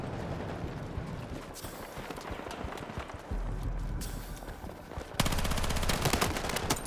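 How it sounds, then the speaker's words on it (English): Battlefield 6 gunfire: rapid automatic bursts of shots, near and loud, with a sustained heavy machine-gun stream in the final seconds over background battle noise. "No idea where my bullets are going."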